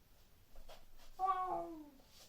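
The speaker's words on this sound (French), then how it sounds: "Elle préfère miauler qu'aboyer." Belle, a female pet dog, gives a single drawn-out cat-like meow partway through, clear and close after a few faint soft sounds.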